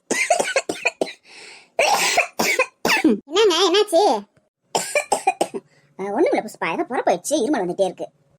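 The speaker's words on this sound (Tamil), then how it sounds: "படிக்க மட்டும் உனக்கு இருமல் வரும்" Coughing from a cartoon character in a Tamil animated family comedy, several short harsh bursts mixed in among lively, animated voices, close and fairly loud.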